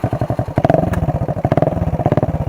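A Honda Dio scooter with an aftermarket exhaust runs close by, its engine pulsing in a rapid, loud, steady putter with a brief rev in the middle.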